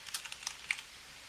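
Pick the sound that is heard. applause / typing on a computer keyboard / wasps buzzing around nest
typing on a computer keyboard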